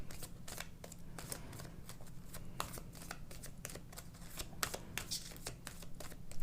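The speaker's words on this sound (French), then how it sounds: "On va faire une coupe." A deck of tarot cards is cut and handled at close range, giving quiet, repeated crisp riffling and flicking sounds in quick irregular bursts over a faint background hum.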